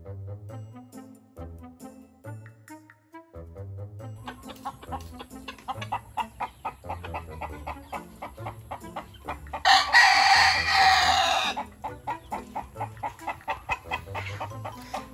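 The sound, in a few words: chickens clucking and rooster crowing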